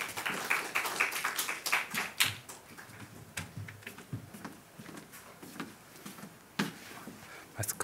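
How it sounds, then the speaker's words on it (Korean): A small church congregation of young adults gives scattered, uneven clapping to welcome an elder, light patters of hands rising and falling irregularly at moderate distance. "우리 박수로 한번 맞이하면 좋겠습니다."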